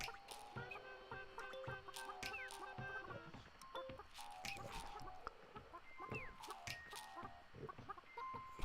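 Chickens in the video game Burly Men at Sea cluck and chatter in quick, uneven bursts, several birds close together, with occasional higher squawks over a soft game background.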